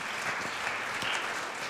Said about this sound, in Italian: Bene, un applauso.